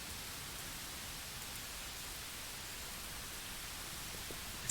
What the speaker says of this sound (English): A very comforting sound, the rain and the leaves.